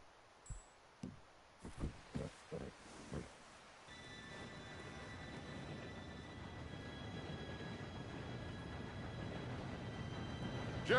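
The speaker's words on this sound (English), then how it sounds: "Train should be here any minute." A steam train in Red Dead Redemption 2 rolls in as a steady, building rumble that grows louder, preceded by a few sharp footstep-like thumps, with a faint high whine running through.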